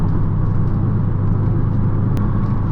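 A Dodge Challenger Shaker with a manual gearbox drones steadily while driving, a loud, even low engine hum and road noise heard from inside, with no talk.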